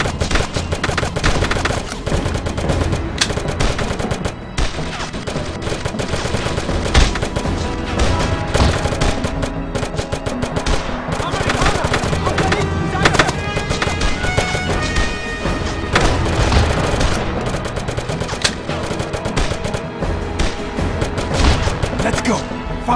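Dense, rapid gunfire fills a World War II shooter firefight in Brothers In Arms 2 on iPhone, with sharp overlapping shots and bursts crackling continuously and loudly, alongside occasional game voices.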